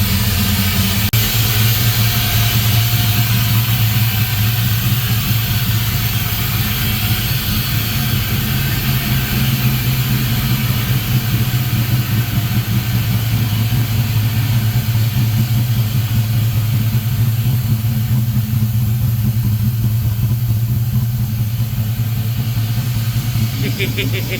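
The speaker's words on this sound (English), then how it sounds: "And then of course, it idles. But there you are. It runs." Toyota Lexcen car engine idling after a cold start, a loud, steady low rumbling drone that holds evenly throughout at close range, with people talking faintly underneath.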